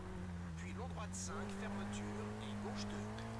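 MG rally car engine in Colin McRae Rally 04 on PS2 on a Finnish gravel stage: a steady, droning engine note that wavers slightly in pitch, with a few brief high squeals over it and no talking.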